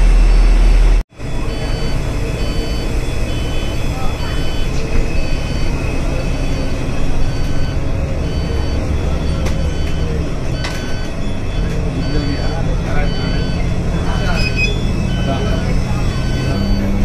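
An airport shuttle bus carrying passengers out to the plane gives a steady, loud engine rumble with cabin rattle throughout, after a brief sharp cut near the start, with voices faintly in the background.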